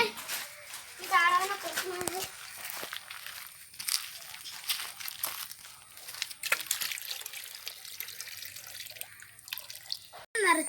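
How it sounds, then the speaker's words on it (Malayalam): Water splashes and trickles as it is poured to fill a small backyard guppy pond, a fairly quiet, uneven pouring sound with a voice and other talk over it. "ഇനി നമുക്ക് കുളത്തിൽ വെള്ളം നിറയ്ക്കാം"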